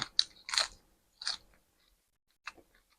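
Crispy Thai pork belly is bitten and chewed up close, giving a few sharp crunchy bites followed by quieter chewing, with short pauses between bursts and no talk.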